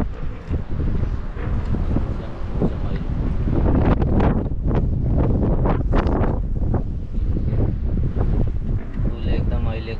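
Strong, gusty wind outdoors in stormy weather near a house in Isesaki, Gunma, Japan, roaring and buffeting the microphone steadily throughout, with a voice talking underneath.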